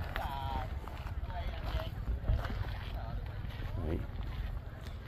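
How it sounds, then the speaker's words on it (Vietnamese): Outdoor wind buffets the microphone in a field in Da Lat, Vietnam, a steady low rumble that runs under continuous talking throughout. "gió chút xíu các bạn thông cảm ha"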